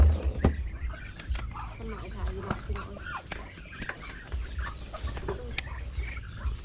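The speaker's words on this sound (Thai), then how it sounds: "ไก่ใหญ่มีสองสามตัว" Chickens and a few large hens clucking at close range on a rural farm in Thailand, short irregular calls scattered through the clip while a person talks over them.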